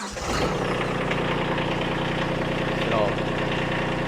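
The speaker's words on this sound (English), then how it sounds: "Now we'll fire up this one." A compact Kubota BX or B-01 series diesel tractor engine idles steadily at about 1000 RPM with a rattling, chugging drone, close by, while a voice speaks briefly at the start.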